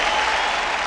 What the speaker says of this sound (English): let's give a hand clap to the soldiers, please